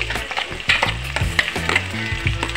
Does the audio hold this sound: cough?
no